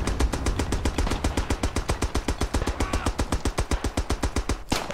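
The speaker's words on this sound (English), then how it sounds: "Single shot bolt action?" Rapid, evenly spaced automatic gunfire from the video game Beyond The Wire, a World War One setting, with dozens of sharp shots in a steady rhythm lasting nearly five seconds and one final louder crack, with no talking.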